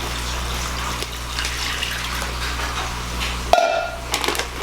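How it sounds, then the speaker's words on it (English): Water poured into a bag while making cheesesteaks, a steady trickling splash running throughout at fairly close range, with a sharper gush and crinkle near the end. "I'm going to pour in the water."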